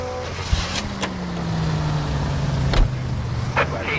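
A period car from L.A. Noire drives along with a low, steady engine drone, joined by a few sharp clicks and knocks, fairly quiet and with no voices.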